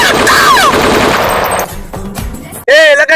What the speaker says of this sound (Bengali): এই এলাকায় গুলি চালালো কার?